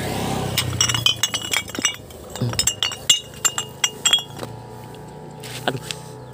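Scrap glass bottles, brown and green, clink and knock together as they are handled and sorted. Bright irregular clinks come in bursts, then thin out to a few scattered taps, close by with no talk.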